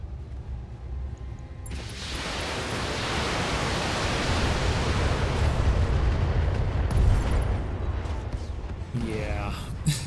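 A mech blows up in the BATTLETECH video game, with a heavy roaring blast that bursts in after a brief quiet lead-in and rolls on as a dense, loud rumble for several seconds.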